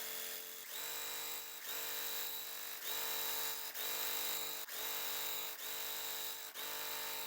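Sewing machine stitching across the corners of a quilt block for a Valentine's Day table topper, a steady mechanical whir running in about eight short bursts with brief pauses between them, close and clear with no talking.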